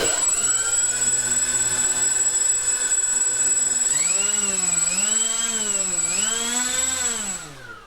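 Electric motors of a model B-24 Liberator plane spinning up to about a third throttle, a steady high-pitched whine that rises and wavers in pitch, loud and close, running alone before tapering off at the end.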